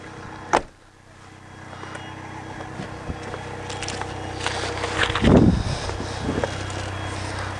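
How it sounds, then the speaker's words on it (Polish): The hood of a Carthago motorhome on a Mercedes chassis is opened up close: a sharp latch click near the start, then quieter mechanical creaks and a dull thump with rattling as the panel lifts, and no one speaking. "Zajrzymy jeszcze pod maskę tego auta."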